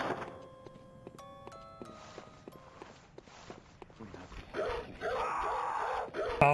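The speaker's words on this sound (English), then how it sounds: "Oh no, not the dogs." Dogs barking and yipping in the Bloodborne video game, with hurried footsteps and game effects, short yelps scattered through and a louder burst of activity near the end.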